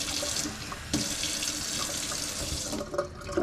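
Water streams steadily from a tap into a mixture for homemade taho, a few seconds of continuous splashing hiss with a brief surge near the start and the end.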